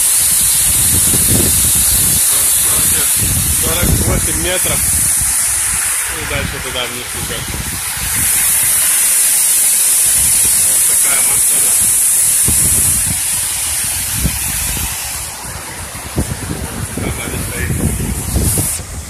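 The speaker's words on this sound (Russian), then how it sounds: "Если меня слышно вообще из шума грохота воды." The Klokovsky waterfall on Sakhalin roars in a constant broad rush close by, with someone talking over the heavy hiss of falling water.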